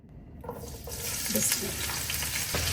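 Chopped onion hits hot oil in a pan for a fish bhuna, setting off a sudden, loud, sustained sizzle that stays close and steady, with faint stirring scrapes underneath.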